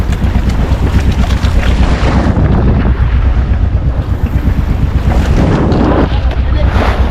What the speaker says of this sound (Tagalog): Ah, lalaki ng alon.